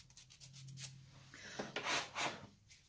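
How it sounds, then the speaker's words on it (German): A nail file rasps against fingernails in several short, soft scraping strokes, close and quiet with brief gaps between passes and no speech. "ich werde das jetzt mal hier so feilen"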